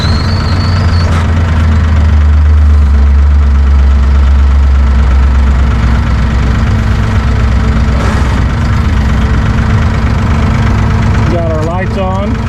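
A Massey Ferguson 1E.40 compact tractor engine idles steadily and loudly with the loader raised, a continuous low knocking rumble, with a brief whine at the start and faint talk.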